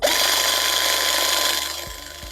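A RIX battery-powered punching kit pulls its draw stud into the cylinder with a steady, loud motor whine that holds for about two seconds, then cuts off, leaving a couple of faint clicks.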